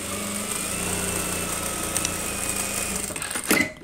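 A sewing machine stitches two layers of ruffles together on a loose gathered dress with elastic shirring, running as a steady, continuous close whir that ends in a brief louder burst.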